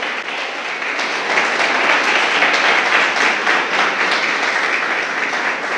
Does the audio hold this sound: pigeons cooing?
no